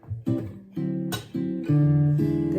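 Swing-style rhythm guitar strumming a chord progression from a song, several sustained chords changing in steady succession, played close and alone without talk.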